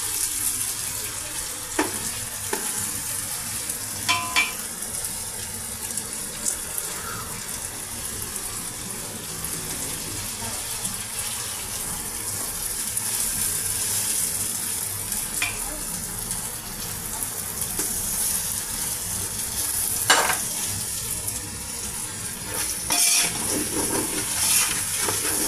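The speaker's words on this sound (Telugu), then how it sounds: "ఒక మీడియం సైజ్ టమాటా పీసెస్ అండి కట్ చేసి అందులో యాడ్ చేస్తున్నామండి." Medium-sized tomato pieces fry in oil in a pan while a pulav is being made, giving a steady, close sizzle that runs throughout with occasional clinks and stirring noises.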